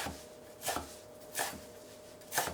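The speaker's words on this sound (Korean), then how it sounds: "그러니까는 추를 좀 썰어주세요" A knife chops chwinamul (aster scabra greens) three times at a slow, even pace against a cutting board, crisp and close, with quiet background between strokes.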